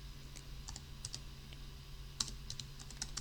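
Scattered key presses on a computer keyboard while a KQL query is typed, light irregular clicks in short bursts over a low steady hum, close and fairly quiet, with no talking.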